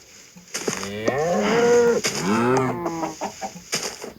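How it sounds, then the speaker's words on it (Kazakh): Cattle low among farm livestock in a crowded yard, giving two long, drawn-out moos close by with a few fainter animal and fowl sounds around them and no one talking. "Мына жақта малдарға толып кетті ғой."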